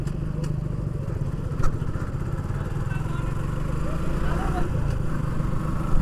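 Motorbike ridden through clouds on a mountain road from Bandarban toward Thanchi, a steady low engine drone with wind rumble throughout and a couple of faint knocks.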